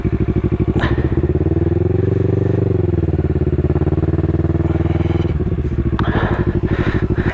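A motorcycle on Dunlop Mutant tires, ridden over road and dirt, with a loud, close engine drone that holds steady, shifts pitch slightly midway, and rumbles on with rhythmic pulsing and occasional clattering bumps.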